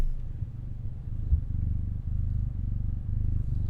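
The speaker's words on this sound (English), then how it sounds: "That's a kitty cat purring." A small cat purrs close by with a steady low rumbling flutter that continues without a break, heard alone with no talking.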